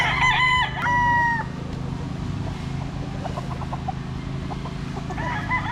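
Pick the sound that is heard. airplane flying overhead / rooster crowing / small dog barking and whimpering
rooster crowing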